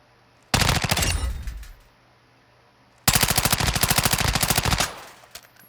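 An M4 assault rifle fires in Call of Duty, with two sustained bursts of rapid automatic gunfire, loud and close, separated by a short gap, each burst trailing off into a brief echo.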